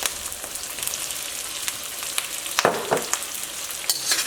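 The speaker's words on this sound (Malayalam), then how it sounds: "ഇതിലേക്ക് ക്യാപ്സിക്കം ചേർക്കാം." Capsicum added to onions fries in a pan with a steady, bright sizzle and occasional sharper crackles and stirring scrapes near the end.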